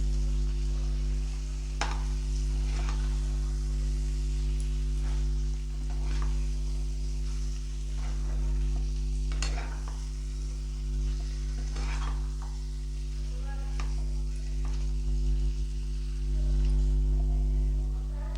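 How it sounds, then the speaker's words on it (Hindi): Fried potatoes are stirred through masala in a pan for dhaba-style dum aloo, with a spoon scraping at intervals over a steady sizzle and a low hum, close and without speech. "और ये जो फ्राई करके ये मैं इसमें डाल दूँगी। इसको अच्छे से चला देंगे।"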